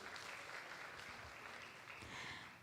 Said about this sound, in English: Give applause for her, please.